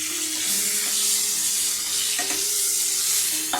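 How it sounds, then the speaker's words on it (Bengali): Boiled, salted, turmeric-dusted cauliflower frying in a kadai, a steady close sizzle with a couple of light stirring knocks. "এখন আমরা ফুলকপিটা ভাজবো।"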